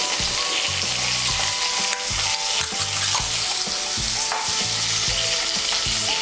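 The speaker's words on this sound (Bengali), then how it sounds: "এই তেলের মধ্যে আমি আলুগুলো ভেজে নেব।" Thin-cut potatoes with salt and turmeric fry in hot oil for a prawn dish, giving a dense, continuous sizzle close to the mic. Clattering stirring sounds and a patterned background sound run under the sizzle.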